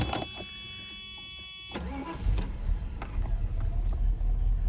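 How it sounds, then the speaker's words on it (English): A Mercedes W126 with an M1 engine, fitted with new non-resistor copper spark plugs, cranks briefly and fires up at once into a steady idle, recorded close by. "The darn thing cranks right up."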